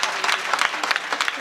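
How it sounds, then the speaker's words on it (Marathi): An audience at a kirtan in a Hanuman temple claps for the singers and musicians, a brief burst of uneven hand claps with scattered sharp hits, close and lively. "गायक वादकांसाठी जोरदार टाळ्या झाल्या पाहिजे"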